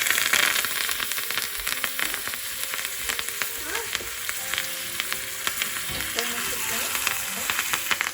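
Hot oil crackles and sizzles as mustard seeds, urad dal, asafoetida, red chilies and curry leaves fry for a sambar tempering, a dense, continuous spatter with sharp pops and light stirring throughout.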